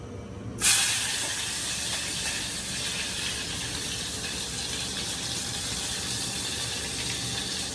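A sudden loud hiss starts near the beginning and settles into a steady, bubbling sizzle of curry boiling in a pot, with no voices.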